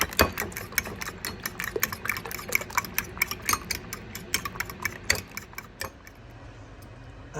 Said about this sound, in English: While that's melting, I'm going to beat the eggs.